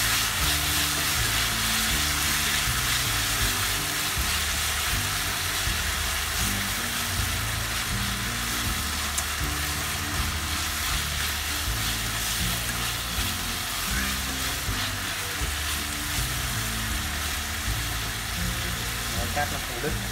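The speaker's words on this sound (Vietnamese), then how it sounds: "Xào này thì mình xào lớp lửa lớn và nhanh tay nha các bác" Beef for Vietnamese shaking beef stir-fries over high heat, a steady loud sizzle running the whole time with a person speaking over it.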